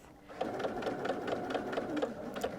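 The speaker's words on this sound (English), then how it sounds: "So I'm going to be top stitching about an 1/8 inch from this inner side first." Sewing machine running steadily while top stitching a mitered quilted napkin, a rapid even mechanical chatter of needle strokes, close and continuous with no talking.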